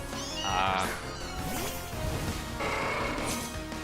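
Meowth's cry in Pokémon Scarlet, a synthesized cat-like meow that rises and falls twice over battle music, loud and close.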